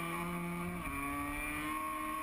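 A MotoGP-style racing motorcycle runs on the Grange track, its engine a steady, fairly faint whine that drops in pitch partway through as if shifting down, with no voices present.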